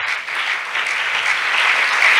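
A church congregation at a Sunday service breaks into loud, sustained applause to acclaim the Lord, the clapping dense and steady and slightly building toward the end, with no voices over it.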